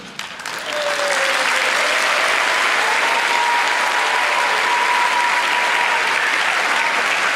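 An assembly audience claps along with the floor team, a sustained, loud wash of applause that swells in quickly and holds steady, with a faint tonal hum running underneath.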